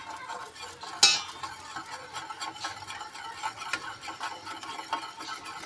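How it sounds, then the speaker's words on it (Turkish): Whisking a sauce of flour and salt in a bowl, brisk repetitive scraping and tapping of a whisk or spoon, starting with a sharp metallic clink, then a steady close stirring rhythm. "Şimdi bunu çırpacağız."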